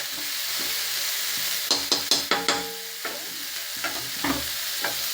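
Onions fry in a pan for poha, a close, steady sizzle with a burst of quick spatula scrapes and knocks in the middle and a few more toward the end, without talk.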